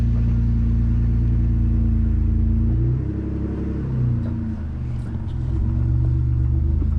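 A Jeep rock crawler working its way over a rock ledge, a loud low engine rumble with a steady drone that wavers and dips midway as the load shifts.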